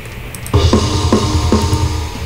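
Programmed kick drum with the equalizer switched off, four dull, muffled thumps at an even pace, heavy in the low end with little attack, alone.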